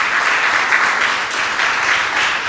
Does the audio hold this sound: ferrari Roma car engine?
no